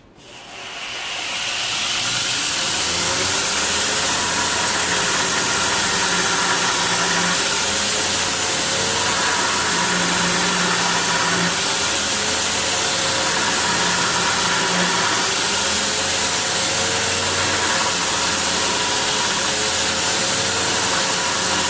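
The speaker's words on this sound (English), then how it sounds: "Now I'm just going to be polishing the faces." Abrasive polishing of the faces of hand-made hammers with a cork 600 wheel, a loud continuous whirring hiss that ramps up at the start and then runs steadily, with faint shifts in tone as the workpiece is pressed.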